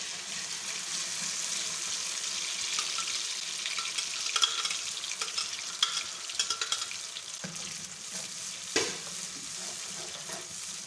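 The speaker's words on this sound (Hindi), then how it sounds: "इस पेस्ट को हम 1 मिनट के लिए फ्राई करेंगे।" Spice paste for fish curry fries in a pan, a continuous close sizzle broken by a few scraping stirs and soft knocks.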